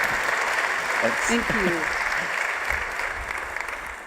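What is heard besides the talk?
audience applause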